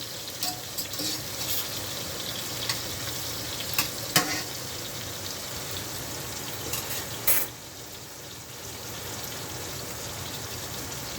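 Ackee gently stirred with seasoning in a pan, a steady soft sizzle with scattered light scraping and clicking taps, close and moderate, no voices.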